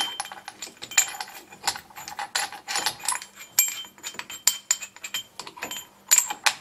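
A brake piston pusher tool being screwed against the front caliper piston of a 2009 Suzuki Alto during a pad and disc change, giving close, irregular metallic clicks, ratcheting and clinks.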